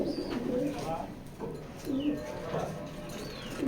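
Racing pigeons from a Jessore club give soft, repeated throaty coos, close by and fairly steady, over a low background murmur.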